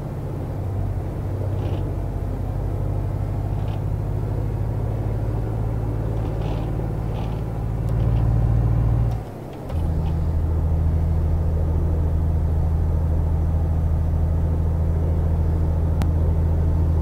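A simulated truck pulling a trailer down a highway off-ramp in a driving game, a steady low engine drone and rumble held throughout with a brief dip and shift partway, no talk.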